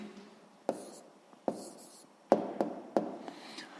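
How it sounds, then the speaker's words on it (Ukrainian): A pen scratches out an answer by hand during a sixth-grade math exercise, several short quiet strokes in irregular bursts, close and alone. "Ну що ж, записуємо тоді відповідь."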